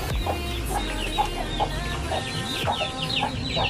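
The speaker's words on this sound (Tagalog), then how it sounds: "Dito naman sa mga sisiw." Chickens and chicks clucking together in a cage, a steady run of overlapping clucks and peeps close by against a constant low background hum.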